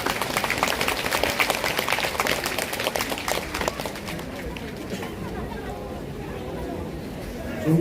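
A crowd at the Buddha's Birthday ceremony at Jogyesa temple applauds with a brisk, loud burst of many hands that fades after a few seconds into murmuring voices.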